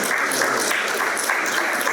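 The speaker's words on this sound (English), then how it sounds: "can we all give a round of applause for Michael and LFT Fiber" Steady, dense applause from an audience at a conference event, sustained and fairly loud throughout without talk.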